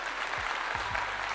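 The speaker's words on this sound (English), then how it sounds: "Coach Prime, let's give him a clap." An audience claps for Coach Prime, a brief, soft wash of applause from a crowd, fairly distant, with a few low thumps underneath.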